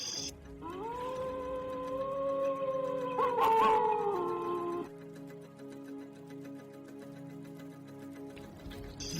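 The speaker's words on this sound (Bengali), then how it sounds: "লোকটাকে দেখে রাস্তার 4-5টা কুকুর কাতর স্বরে চিৎকার করে কেঁদে উঠল।" Several street dogs howl together in long, wailing rising tones, loud and close, with a ticking clock faintly in the background, set in a spooky village horror story scene.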